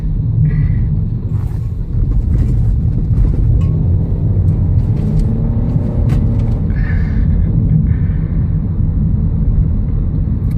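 A rental car drives along a sand-covered road on South Padre Island, making a loud, steady low rumble of engine and tire noise with wind buffeting close to the microphone.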